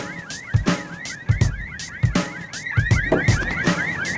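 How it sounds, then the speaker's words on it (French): Several car alarms wail at once, their rising and falling tones overlapping in a continuous loud cycle, with occasional thuds and bangs mixed in. "Les alarmes, patron!"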